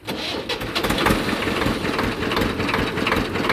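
A tractor engine idles close by on a farm, a loud, continuous rough rumble with rapid pulsing chugs that holds steady throughout.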